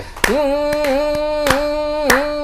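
Audience members at a Hindi kavi sammelan poetry recital clap a few sharp, separate times under a man's sustained, chanted recitation, which carries on throughout.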